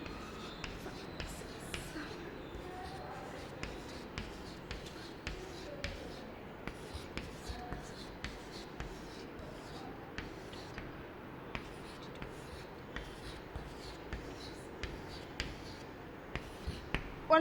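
A pen taps and scratches on paper in a quiet room while drawing for a maths lesson, with soft irregular clicks and short strokes recurring throughout at low volume.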